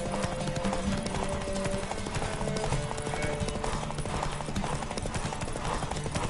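Rhythmic clip-clop of a horse galloping steadily in The Witcher 3, hoofbeats close and continuous under a busy game soundscape with music-like tones.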